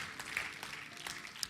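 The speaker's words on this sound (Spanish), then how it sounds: "dale un fuerte aplauso" Faint, distant applause from a church congregation, a soft continuous patter of many hands with scattered sharper claps.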